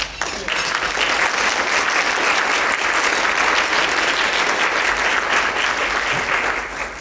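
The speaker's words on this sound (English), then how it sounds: "I want you to give her a round of applause" Sustained audience applause at a writers conference in Clarksville, honoring the organizer; steady dense clapping from a full room lasting several seconds, fairly loud and unbroken.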